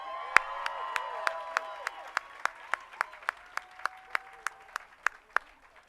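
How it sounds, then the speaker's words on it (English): An audience at a Hollywood Walk of Fame ceremony claps in a slow, evenly spaced rhythm, about sixteen sharp claps over a faint crowd murmur. "Let's give him a big round of applause"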